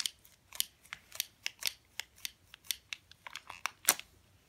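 Scissors snip repeatedly through the stiff plastic packaging of a toy battle pack, producing a steady series of sharp, close cuts with a crisp crinkle.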